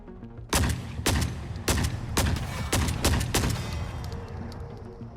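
Cultists fire shotguns in a video game: seven or so sharp, loud blasts in an uneven burst, each with a short echoing tail, no talk over them.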